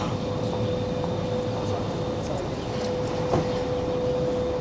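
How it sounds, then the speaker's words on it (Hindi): An underground subway train runs beneath a street in downtown Toronto in winter, giving a steady, continuous low rumble and hum heard from street level with no break. "और ये नीचे सबवे स्टेशन है ट्रेन का, अभी मुझे आवाज़ आ रही है।"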